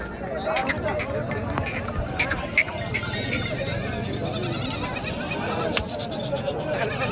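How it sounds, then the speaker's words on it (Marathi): Goats bleat repeatedly amid a busy, noisy outdoor goat market in Parbhani, Maharashtra, with voices murmuring throughout. "टॉपमध्ये मित्रांनो शेळ्या आहेत"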